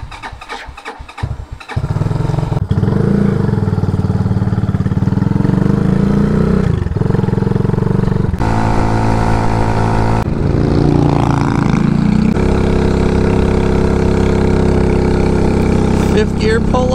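223cc RPS Condor motorcycle starting and riding off, a quiet opening followed by a loud, sustained engine drone with shifting revs and gear changes; a voice is briefly heard over it.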